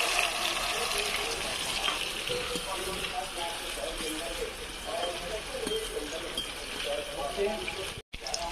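Finely chopped green chickpeas (sole) cook in hot oil, giving a loud, dense, steady sizzle that runs almost without pause. A brief dropout comes near the end.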